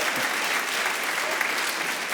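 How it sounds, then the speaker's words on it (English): A live comedy show audience gives a brief, even burst of clapping that holds at the same level from start to finish. "Give her a round of applause."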